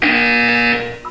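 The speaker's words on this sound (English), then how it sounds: "When you hear the buzzer, look down at the floor" A loud, steady electronic buzzer from the Aperture Science Portal game sounds alone for nearly a second, then cuts off, followed by a faint short tone.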